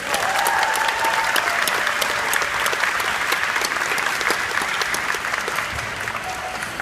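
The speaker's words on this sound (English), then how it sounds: "Can we honor them with an applause?" A graduation crowd breaks into long, sustained applause, a thick, even roar of many clapping hands with occasional faint cheers, loud and close for the whole stretch.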